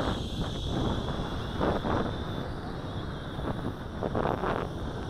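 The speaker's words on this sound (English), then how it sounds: "it builds up a wind drift to fight this wind" Wind buffeting the microphone outdoors during a Tarantula Spider 1505 drone flight test, a continuous rushing roar with gusty swells and a faint high whine from the drone in the background.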